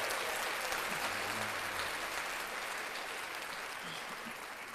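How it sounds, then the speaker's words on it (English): A crowd claps steadily and evenly, a thick wash of applause that fades slightly toward the end, with faint voices mixed underneath. "Let's clap that up, James."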